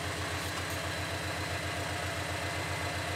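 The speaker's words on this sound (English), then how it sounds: "The car's idling a lot better." A Subaru BRZ engine idles evenly after a fuel pump replacement, a steady close low rumble with a regular pulsing beat and no talk.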